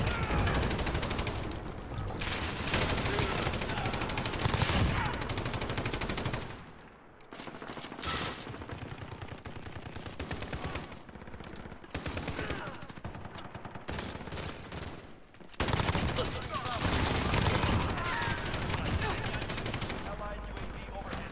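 A light machine gun in Call of Duty: Modern Warfare fires long continuous bursts with the trigger held down, loud and dense, broken by a couple of short pauses, with game explosions and other gunfire mixed in.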